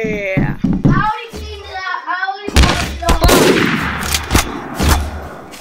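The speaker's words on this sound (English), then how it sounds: "Watch, I'm gonna shoot a guy." Rapid gunshots in Garry's Mod crack out as sharp repeated bursts, loud and close, mixed with excited talking from players throughout.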